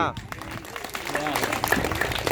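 A village crowd breaks into applause at a government outreach gathering in Lakhrawa, Karchhana, Prayagraj, a dense wash of clapping rising under loud speech through the short stretch.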